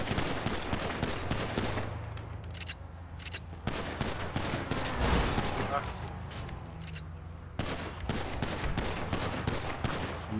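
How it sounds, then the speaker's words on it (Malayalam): Rapid bursts of gunfire from GTA Online's sniper-versus-flipping-cars adversary mode, with dense overlapping shots and volleys running continuously at moderate loudness over a steady game background. "വെടി കൊള്ളുന്നുണ്ടോ നിങ്ങക്കൊക്കെ?"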